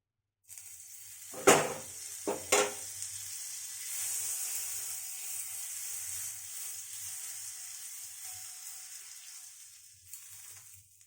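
Butter sizzles in a pan while milk butter roti cooks, a steady hiss after a couple of sharp clatters near the start, continuing evenly and close with no talking.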